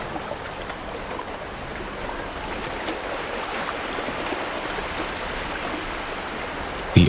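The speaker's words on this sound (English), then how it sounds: "The tide is low, and the waves are just a slow, rhythmic shush, like a long, deep breath." Gentle ocean waves wash onto a shore at low tide, a soft continuous hiss of water with slight swells, fairly faint and steady throughout, ending in a brief louder thump.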